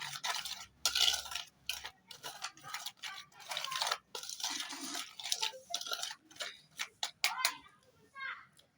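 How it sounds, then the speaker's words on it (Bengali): A spoon mixes gram-flour batter for potato fritters with turmeric and chili powder, making close, quiet, rhythmic wet scraping strokes in a bowl. "এবার আমি ভালোভাবে এটাকে মিশিয়ে নিচ্ছি।"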